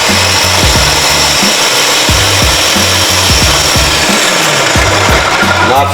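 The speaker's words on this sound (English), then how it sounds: "I threw them in my processor a little bit just to speed up some of my time" Food processor grinding peeled, seeded tomatoes, a loud close motor whir broken by rhythmic pulsing chops throughout with no one talking.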